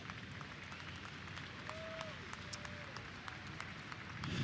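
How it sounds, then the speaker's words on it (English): Crowd at the Chili Bowl Nationals midget car race applauds army veterans, a distant, diffuse clapping spread across a large arena, steady throughout with a faint tonal sound drifting over it. "give them a round of applause."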